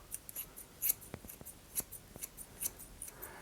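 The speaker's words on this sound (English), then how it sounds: "I'm just going to bring my comb in at the same angle and cut across the hair" Scissors snip hair cut over a comb in a quick, uneven series of small, sharp, close clicks, with quiet handling sounds between the cuts.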